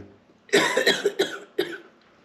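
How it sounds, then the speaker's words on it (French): A person coughs several times in quick bursts, close and fairly loud, with short pauses between the coughs and no talking. "je tousse maintenant"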